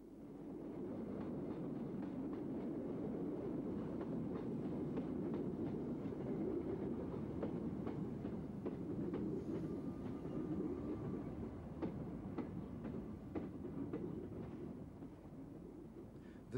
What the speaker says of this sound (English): Here we see intercity and Network trains at a regional railway station.